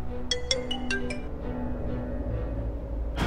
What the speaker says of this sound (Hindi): ये अपनी बार बार फोन कर रहा है